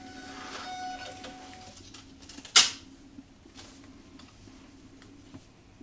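A LabelRange LP620 thermal label printer prints a label with a short mechanical whir and ticking, then a sharp snap or tear, followed by faint small clicks in a quiet room.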